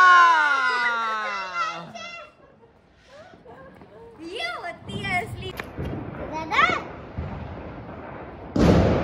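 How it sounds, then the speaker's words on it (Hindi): Firecrackers set off at a Diwali-style street celebration welcoming Lord Ram, with loud broadband bursts and crackles at irregular intervals, including a big blast near the end, mixed with children's voices and chatter. "पटाखे।"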